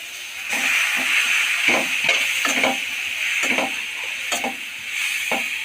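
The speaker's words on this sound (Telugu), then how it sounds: "పాస్తా వేసి ఇటు అటు అలా కలిపి పాస్తా మసాలా కొద్దిగా" A spoon turns pasta through tomato ketchup in a hot pan, giving repeated close scraping and mixing strokes in an uneven rhythm over a constant loud sizzle and hiss.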